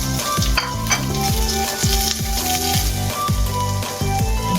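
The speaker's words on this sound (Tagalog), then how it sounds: "At ilagay natin yung ating luya, sibuyas, at bawang" Ginger, onion and garlic sauté in a hot pan for a crab sinigang, with a steady loud sizzle and rhythmic scraping strokes of a spatula repeating every half second or so.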